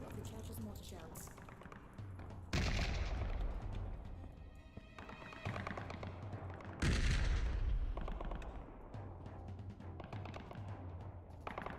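Gunfire in the VR game Vertigo 2 cracks out in loud bursts and rapid volleys, two big blasts standing out, with a player talking over the shooting throughout.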